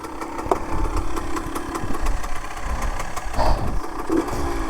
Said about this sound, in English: this engine, which is a 2-stroke high-performance engine derived from the CR250 dirt bike